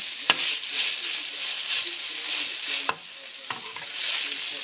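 Stir-fry sauteing in a pan with fish sauce, soy sauce and oyster sauce gives a bright, steady sizzle up close, punctuated by a few sharp clacks and scrapes of a utensil stirring, with no voices.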